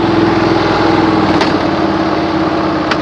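A tractor engine running steadily close by in cold, frozen conditions, with a constant buzzing drone and a faint clunk or two, no voices.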